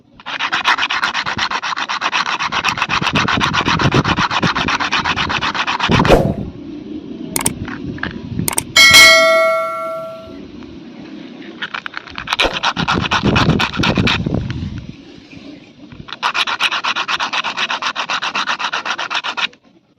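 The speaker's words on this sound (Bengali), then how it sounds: "আর একটু আমরা ঘষে নেব তো পদ্মের দানার লেয়ারটা এতটাই মোটা যা কিনা এর ভেতরে জল ঢুকতে পারে না এই জন্য ঘষে নিতে হয় একটুখানি" Lotus seeds are rubbed against a rough surface to wear down their hard seed coat, giving long stretches of brisk, rhythmic scraping separated by pauses, close and loud, with a few clicks and knocks between strokes.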